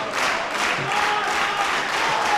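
Wrestling crowd at the 2012 Open The Ultimate Gate show cheering and applauding steadily as a match goes on, a dense continuous roar of clapping and voices at close range.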